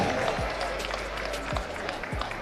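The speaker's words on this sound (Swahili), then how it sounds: "Makofi kwake tafadhali." Scattered applause from an audience at a boxing championship press conference, fairly faint and loose, with a few low thumps and some murmuring voices mixed in.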